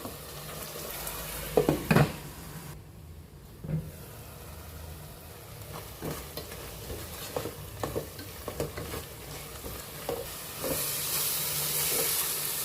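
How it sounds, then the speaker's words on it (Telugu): Crab curry masala fries on a low flame in a pot, giving a soft, steady sizzle and hiss with light crackles and a few louder clinks, and no talking. "లో ఫ్లేమ్లోనే వేయించుకోవాలి మసాలా వేయకూడదు"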